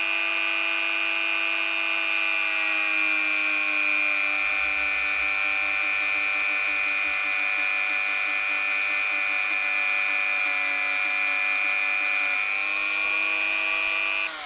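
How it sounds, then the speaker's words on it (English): A Dremel rotary tool whines steadily while grinding on a model train part, a close, continuous high-pitched buzz that holds for the whole stretch and shifts slightly in pitch near the end, with no talk. "the Dremel will destroy gears if it touches them"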